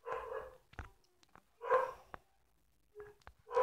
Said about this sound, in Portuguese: só vê esse cachorro latindo.